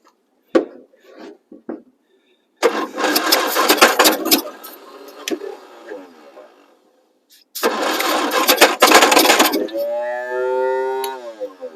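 Engine of a 1962 Midget cranking and firing on brake cleaner in two bursts, each catching and revving roughly before dying, loud and close, with a short pause of quiet between and a voice speaking at the end.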